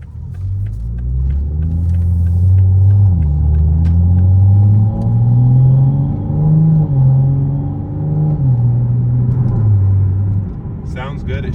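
Toyota A90 Supra in normal mode pulling steadily, engine note rising in pitch then dropping with each quick early upshift, a smooth repeated stepped pattern heard loud from inside the cabin.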